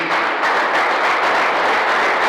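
A church congregation applauds God during a sermon, a loud, dense, continuous roar of clapping from many hands.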